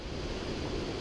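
A mountain trail waterfall fed by melting snow gives a steady, broad rushing roar, full and continuous from nearby, with some wind noise over the microphone.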